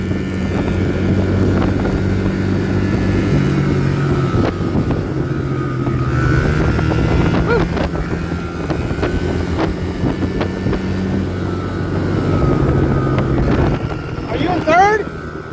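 A dirt bike engine drones steadily while riding, with rushing wind noise over the microphone and people talking over the continuous engine hum, which rises slightly toward the end.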